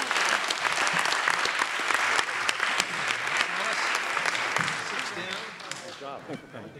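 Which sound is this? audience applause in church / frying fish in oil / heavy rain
audience applause in church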